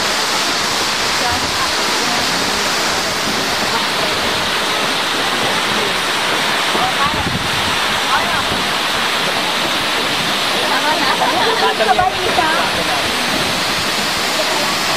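Waterfall on Camiguin island roars in a steady, close, loud broadband rush of falling water that holds for the full length, with brief faint voices under the roar.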